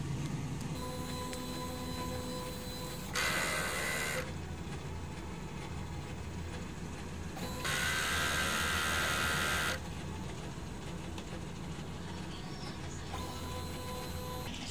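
A DTF printer runs its print head cleaning cycle, a quiet mechanical hum broken by two louder whirring, pumping bursts from its motors and mechanisms.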